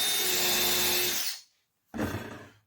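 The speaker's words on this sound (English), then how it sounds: "It's called peck drilling." A drill peck drilling a screw hole, a loud close whir that cuts off abruptly, then a short silence before the bit bites in again for a second burst.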